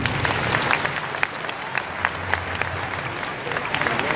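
An audience applauds in the Zénith de Nancy hall during a cheque presentation ceremony, dense steady clapping from many hands that fills the large room, sustained at an even level with no pause.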